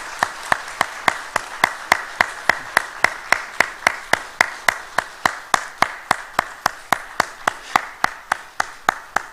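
Rhythmic, unison clapping from a church congregation as gifts are handed to elders, a long run of crisp, evenly timed claps held at a steady moderate tempo over faint background applause.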